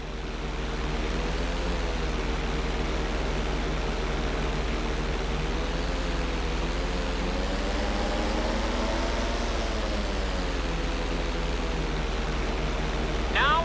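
Aircraft engine in GTA 5 holding a steady loud drone through a roll maneuver, its pitch rising and dipping slightly as the plane turns over, with no talk.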